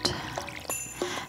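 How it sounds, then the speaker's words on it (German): In Stardew Valley, a watering can is used on the farm fields, giving a few short splashing pours in an uneven rhythm, quiet and close. "dann gießen wir einmal unsere Felder"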